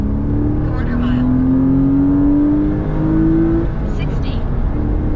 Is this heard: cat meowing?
no